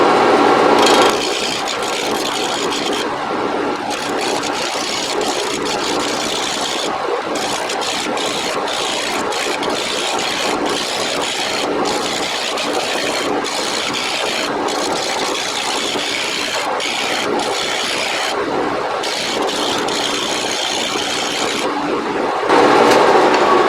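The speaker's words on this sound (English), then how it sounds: "I'm going to stick with this half-inch gouge" A half-inch gouge cuts a wooden urn spinning on a lathe, giving a continuous rough scraping and rasping of wood with brief pauses between passes, steady and close throughout.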